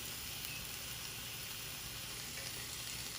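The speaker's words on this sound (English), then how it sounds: "I'm going to go ahead and get a good sear on this side too." A hybrid striped bass fillet sears in a hot pan with a constant, even, faint sizzle, an unbroken hiss that never rises or falls.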